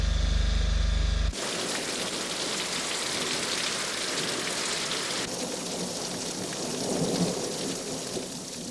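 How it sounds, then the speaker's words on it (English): Steady rain falls at night beneath a storm front over Norwegian hills, a dense even hiss that starts abruptly after a brief low rumble and continues with faint swells. "With a storm front rising over the top of the Norwegian hills, rain had quietly begun to fall."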